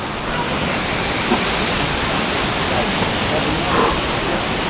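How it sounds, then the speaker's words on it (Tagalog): Tinogtog Falls waterfall: a dense, steady roar of falling water filling the whole clip, close and loud, with faint voices barely audible beneath it. "Tinogtog Falls"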